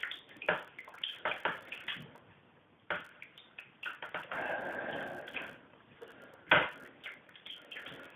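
Water splashing and sloshing in a basin while vinyl records are hand-washed with soap, with irregular close splashes and wipes, some louder bursts, and a stretch of steady swishing in the middle.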